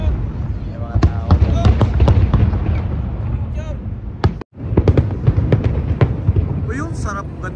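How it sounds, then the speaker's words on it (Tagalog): Chinese New Year fireworks burst in a dense, loud barrage of sharp cracks and booms, with occasional whistling rockets rising over a constant crackle, and a brief dropout midway. "Ayan mga kalingap, 20 minutes yata ito o 30 minutes yung fireworks."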